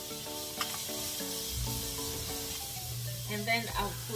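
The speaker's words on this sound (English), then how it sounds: "So I'm just gonna saute all the vegetables in there." Onion and vegetables sauté in a pan at home, giving a steady broadband sizzle with occasional stirring scrapes while a voice talks over it.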